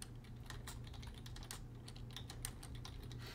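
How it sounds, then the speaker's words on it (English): Quiet, rapid keyboard typing on a computer during a BattleBlock Theater gaming session, a steady run of soft key clicks with irregular rhythm and no talk over it. "What are you typing?"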